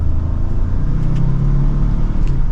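A 2024 Ford Expedition Max Limited accelerates mildly after merging into traffic, heard from inside the cabin as a loud, steady low engine rumble and road drone with no speech.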